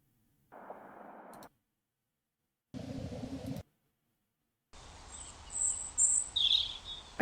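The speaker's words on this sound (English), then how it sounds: "I kind of like the bird sounds." Chirping birdsong sample in a LoFi track, appearing as short separate bursts of bright twittering with silent gaps between them, then a longer stretch of higher, airy calls against a hiss.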